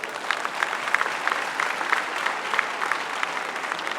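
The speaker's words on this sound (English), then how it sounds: "I think she deserves a round of applause." An audience at a university honorary doctorate ceremony gives steady applause, dense rhythmic clapping heard from a moderate distance with no talk over it.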